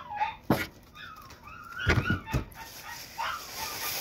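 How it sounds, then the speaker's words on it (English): A puppy whining and whimpering in its kennel during crate training, short high-pitched cries spread across a few seconds alongside a couple of sharp knocks, fairly faint in a quiet room. "if you're hearing my dog whining, it's because she's a puppy and we're trying to kennel train her and she's really freaking out"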